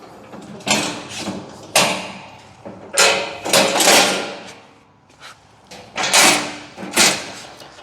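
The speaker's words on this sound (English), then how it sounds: "you just come in here and you undo the latches. This is gonna fold down." Latches are undone and a metal forklift safety cage is folded down, giving a series of sharp clanks and thuds with rattling tails, about six loud close impacts spread irregularly with short pauses between.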